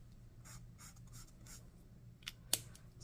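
A chisel nib marker squeaks and rubs across paper in short strokes, soft and close, with a sharper scratch near the end.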